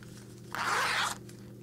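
A zipper is pulled along a sewn messenger bag in a single brisk, close rasping stroke lasting about half a second, set in a quiet room with no speech.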